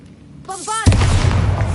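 A Bombarda blasting spell in Hogwarts Legacy: a whooshing magical buildup followed by a single loud, close boom with a rumbling tail.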